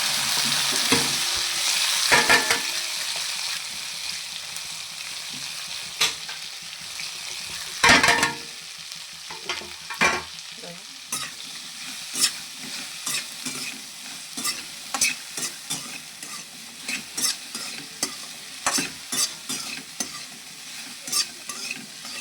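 Okra frying in a pan with cumin powder, salt and crushed garlic, a continuous loud sizzle with frequent scraping and clinking of a spatula as it is stirred, close and with no talk.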